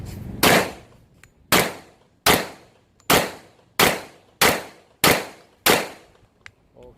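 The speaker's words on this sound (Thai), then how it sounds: "นี้จะทดลองยิงดู ว่าเป็นไงบ้าง" Seven loud, sharp pistol shots from a stainless Kimber Target II 1911 in .45 ACP, fired one at a time at a steady pace of roughly one per second, each with a brief ringing decay.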